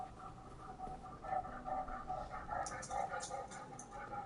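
A pet puppy in a home makes soft whimpers and small yips, close by and fairly quiet, while a person talks to it in an affectionate voice.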